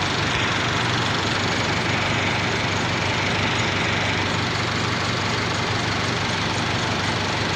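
An Isuzu D-Max pickup truck engine idles close by with a steady, rough diesel-like clatter and a constant low rumble, no voices over it.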